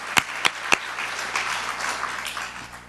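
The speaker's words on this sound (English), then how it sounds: "pass on the applause to him" At an educator award ceremony, a few sharp, close hand claps start things off, then softer, scattered audience applause spreads across the room and tapers away.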